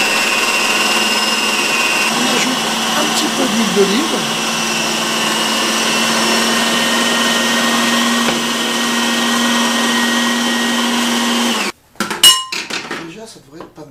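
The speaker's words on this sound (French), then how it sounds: "Et maintenant on relance le mixeur." A food processor blends tapenade with olive oil in a Provençal kitchen: a steady, loud motor whir runs for about twelve seconds, then cuts off into a few clattering knocks of the bowl and lid, with a voice speaking over it.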